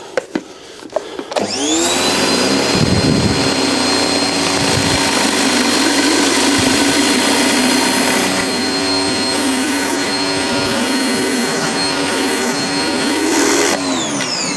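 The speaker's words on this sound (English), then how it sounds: "Now the patio cleaner has actually got a brush all the way around the bottom to prevent splatter." A V-Tuf V3 pressure washer fitted with a brush-skirted patio cleaner attachment scours a very dirty patio, starting with a few knocks before a loud, steady, close whining roar runs unbroken for over twelve seconds.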